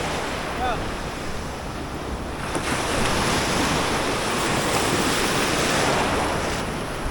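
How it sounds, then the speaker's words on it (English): Ocean waves washing over a shallow reef, a loud, continuous roar of surf with heavy wind buffeting the microphone, the swell building slightly toward the middle. "Yeah, we're getting smashed by these waves."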